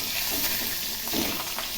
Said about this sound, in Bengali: এটা তো পার্শে মাছ আর পাবদা মাছ একসাথেই ভাজা বসিয়ে দিলাম।